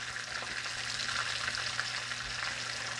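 Coconut shrimp fry in a pan with a steady, dense sizzling crackle, moderately close and continuous, with no voices.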